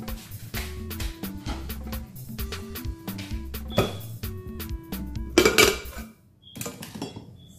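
A metal cooking pot clanks and rattles as it is pulled out and handled in a home kitchen, with repeated close clinks of pots and utensils striking each other.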